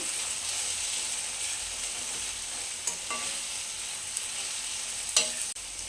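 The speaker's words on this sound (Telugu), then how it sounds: "ఇప్పుడు ఇందులోకి మనం కొంచెం పసుపు, కొంచెం సాల్ట్, అలా వేసుకొని బాగా మొత్తం కలిసేటట్టు కలుపుకోవాలండి" Spinach and onion curry with turmeric and salt is stirred in a hot pan, a steady close sizzle running throughout with occasional light scrapes and a sharp utensil knock near the end.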